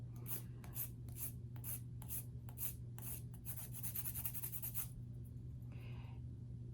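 Nail file rasping excess bits off a resin skull, a quick series of close, rhythmic scraping strokes that speed up before stopping, followed by a brief softer rub.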